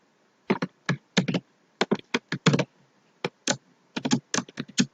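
Typing code on a computer keyboard: close, crisp key clicks in irregular quick bursts with short pauses, no voices.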